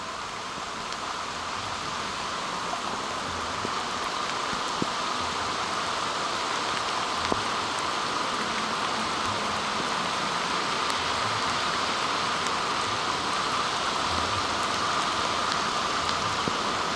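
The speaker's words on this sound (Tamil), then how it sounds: "சண்டிலி பேலையும் வந்து சரியான மழை பெய்து ஒன்று இருக்கு" Heavy rain pours down during a flood in Jaffna. It makes a dense, steady hiss of downpour, even and loud throughout, with scattered drop impacts and no voices.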